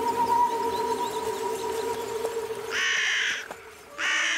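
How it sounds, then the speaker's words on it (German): A raven in a Yakari cartoon gives two loud, harsh caws near the end, after a stretch of quiet ambience and soft music. "Das ist Krickrack, der Rabe."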